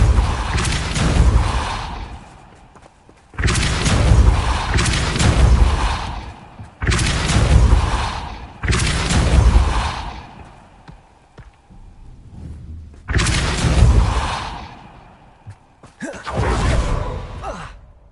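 Spell blasts from Bombarda, Confringo and Repulsor in Hogwarts Legacy: a run of loud booming bursts with whooshing tails, roughly six separated impacts with short pauses between them.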